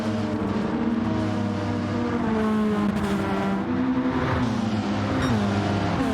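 Group B race cars lap a track in Gran Turismo 7, engines droning and revving in layered, overlapping tones that rise and shift as the cars pass, with occasional faint tire squeal and no voices.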